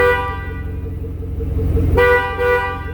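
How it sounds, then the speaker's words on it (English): Two loud, close horn blasts from a 2013 Chevrolet Camaro with a 6.2L V8, the first held about two seconds and the second shorter, sounding back to back with no talking. "We're going to get the double honk when we're done."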